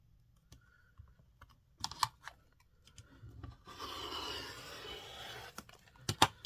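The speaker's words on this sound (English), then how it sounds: "I'm going to sit here and trim my quilt." A quilt being trimmed along a straight edge, with close, dry rasping and rubbing bursts around a sustained stretch of scraping cutting noise, interspersed with sharp ticks and handling sounds.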